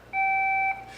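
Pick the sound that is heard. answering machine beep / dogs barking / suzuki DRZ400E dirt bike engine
answering machine beep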